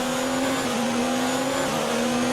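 Steady high-pitched whine of a Formula 1 race car engine in the F1 2019 video game, holding a sustained tone at close range with faint tyre noise and no talk.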